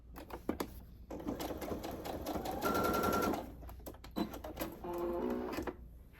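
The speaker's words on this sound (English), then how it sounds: "Sew your 1/2 inch seam again." A sewing machine stitches a half-inch seam on rag quilt pieces, running in bursts of rapid mechanical chatter with short pauses and clicks between runs, close and clear.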